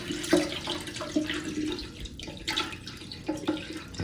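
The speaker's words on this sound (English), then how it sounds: "just fill it up to where you can kind of see the water line in the toilet tank" Water pours from a container into a toilet tank during a power outage, a close, splashing stream with uneven surges and a few stronger gushes.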